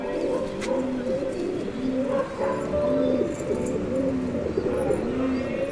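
Dobaz pigeons coo repeatedly in rolling, rhythmic phrases close by, one call after another throughout against a steady low background.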